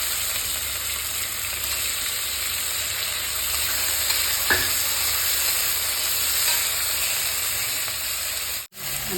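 Tomatoes sizzle and fry steadily in a pan while cooking Assamese egg curry, a continuous close hiss with one brief clink partway through and a short drop near the end.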